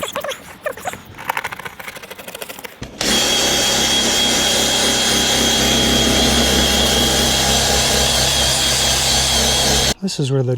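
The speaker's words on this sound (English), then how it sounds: "This is where the drill's handy." A power drill runs continuously and loudly for several seconds while cleaning up under an RV roof vent cap, after a stretch of scraping and handling noises.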